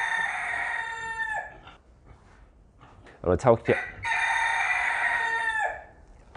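A rooster crows twice loudly nearby, long drawn-out calls separated by a brief spoken phrase in the gap.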